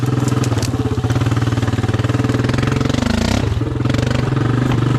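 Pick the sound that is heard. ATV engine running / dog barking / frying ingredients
ATV engine running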